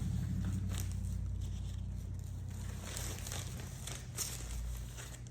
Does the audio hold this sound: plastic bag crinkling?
yes